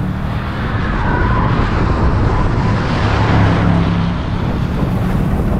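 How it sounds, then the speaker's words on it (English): Bentley GTC convertible weighing 5,300 pounds accelerating hard, a loud sustained engine roar blended with heavy wind and road rush that swells slightly midway. "Really gets up and goes"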